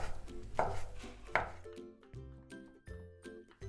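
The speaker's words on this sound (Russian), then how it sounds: "Также немного порежем колбасы или ветчины. При этом лучше порезать ее мелко." A knife chops ham or sausage finely on a cutting board, giving a run of sharp, close wooden knocks in an uneven rhythm, with a faint ringing tone underneath.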